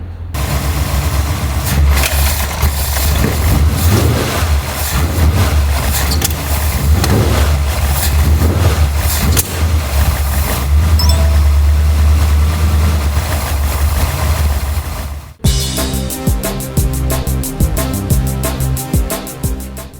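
A car engine fitted with a Holley carburetor idles steadily and loudly during carburetor adjustment, with a sharp break near the end where the running note shifts into a rougher, pulsing rhythm.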